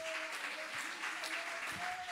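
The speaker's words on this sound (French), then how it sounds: "belle acclamation" Church congregation applauding and cheering during a French-language worship service: dense, continuous clapping that fills the space, with a faint sustained voice tone running above it.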